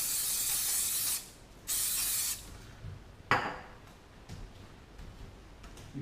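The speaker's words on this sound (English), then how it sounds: "What you do, you go get the extra virgin olive oil spray" Extra virgin olive oil spray hisses into a cooking pan in two bursts about a second each, followed by a short clatter and faint kitchen clicks.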